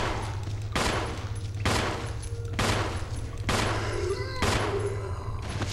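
Gunshots ring out in the survival horror game Resident Evil, five loud, evenly spaced reports roughly a second apart, each with a short echoing tail over a low droning background.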